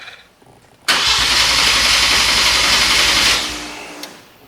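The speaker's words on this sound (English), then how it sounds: "Engine cranks between 261 and 192 RPM" A V6 twin-turbo Kia engine in a DeLorean swap build cranks over with a loud, even rhythmic churning for about two and a half seconds, then the starter stops and the sound fades out; no talking.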